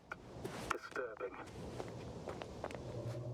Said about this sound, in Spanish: Las pisadas, ¿verdad?